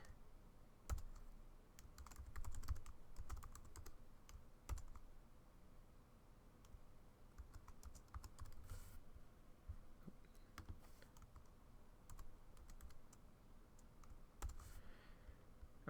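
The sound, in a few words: typing a file name on a computer keyboard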